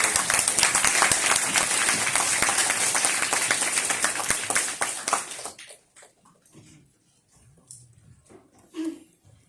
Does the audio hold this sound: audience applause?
yes